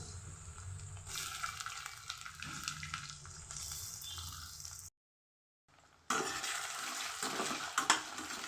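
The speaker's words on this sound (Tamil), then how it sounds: "இப்போ பொட்டேட்டோ போட்டுடுறேன். இது கொஞ்சம் எண்ணெய் அதிகமாக ஊற்றினா தாங்க நல்லாயிருக்கும்" Potatoes frying in plenty of oil for potato poriyal, a steady broadband sizzle broken by a brief silent gap, then returning louder with stirring scrapes near the end.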